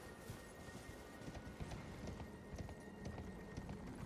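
Horse hooves clopping at a steady trot in the video game Elden Ring, faint and rhythmic under a low background wash, with no talk.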